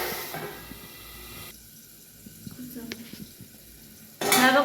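Masala and tomatoes roast and fry in a pan for a val (field bean) bhaji, giving a soft, steady sizzle with light stirring, then a louder burst of hissing frying near the end.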